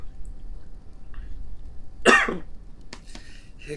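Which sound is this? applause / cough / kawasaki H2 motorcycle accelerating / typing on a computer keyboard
cough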